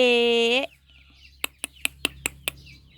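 Chickens on a Thai rural homestead give a loud drawn-out vocal call, then a series of six sharp, evenly spaced clucks or pecking knocks close by.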